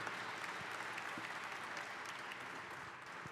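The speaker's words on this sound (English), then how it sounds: "Let's give a big round of applause" A panel-discussion audience at a usability and security talk gives a steady, continuous round of applause, evenly sustained and moderately distant, with no voices over it.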